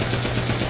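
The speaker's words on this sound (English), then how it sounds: "why are you shooting at the damn 18-wheeler?" Rapid continuous gunfire rattles without pause as a player shoots at an 18-wheeler truck in GTA 5 Online, the bursts dense and loud, filling the whole moment.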